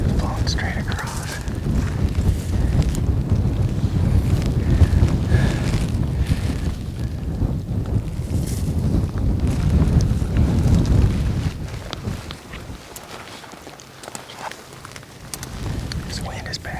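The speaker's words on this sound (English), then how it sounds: "This wind is bad." Strong wind roars across an exposed mountain ridge on a bear hunt, buffeting the microphone with steady heavy rumble that eases slightly toward the end.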